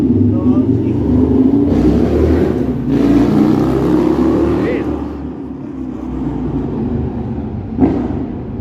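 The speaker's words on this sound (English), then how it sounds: "motorcycle." A ridiculously loud motorcycle revving on a busy downtown Toronto street near Yonge and Dundas, a heavy low engine rumble that swells and fades through the clip amid traffic and city noise.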